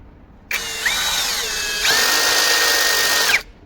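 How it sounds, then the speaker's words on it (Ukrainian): A Grosser GCD 520Q cordless drill with its clutch on the first setting drives 65 mm screws. The close motor whine starts abruptly, shifts pitch as the screw bites, runs steady for about three seconds, then cuts off. "Є в мене кілька 65-х саморізів. Давайте спробуємо закрутити їх."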